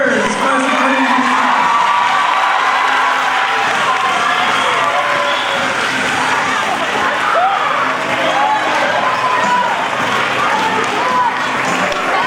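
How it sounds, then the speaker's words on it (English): A school assembly crowd cheers and whoops for eighth graders, a sustained wash of shouting, clapping and hollering that fills the hall without letup. "Let's cheer for our 8th graders."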